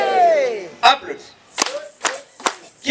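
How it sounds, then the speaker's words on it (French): Church congregation clapping at a funeral service, a few sharp separate hand claps spaced out between singing voices, close and loud. "Applaudis."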